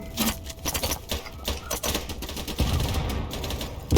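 Gunfire in a sniper video game, a rapid series of sharp cracks and clattering bursts over about four seconds, close and fairly loud, with dense overlapping shots and no clear speech.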